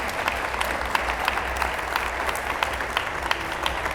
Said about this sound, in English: I think that also deserves a round of applause